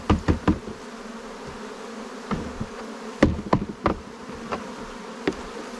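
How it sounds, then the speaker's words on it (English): Honeybees buzz inside a new hive box as it is assembled, a close, steady drone broken by sharp knocks and taps from handling the wooden box. "Bees in the box."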